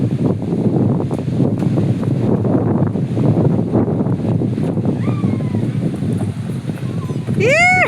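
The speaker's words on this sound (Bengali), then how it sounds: "দেখছো কি বাতাস" Strong wind blows outdoors on a rainy day at a park with swings, roaring loudly and steadily against the microphone, while voices and a child's cry rise briefly near the end.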